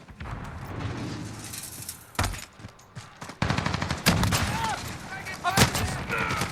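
Remington TAC-14 12 gauge shotgun firing in the Call of Duty Modern Warfare video game, a string of loud close blasts with bursts of other gunfire in a noisy battle mix.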